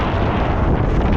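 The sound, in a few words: strong wind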